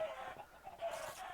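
Minecraft chickens clucking in a brief burst of soft, close clucks from the game's farm birds, quiet with no voices over them.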